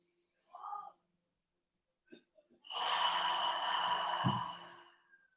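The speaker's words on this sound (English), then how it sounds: "Breathing in." A single long audible inhale during a guided full moon meditation ceremony, drawn steadily over about two seconds after a short breathy sound and a few small clicks, close and soft.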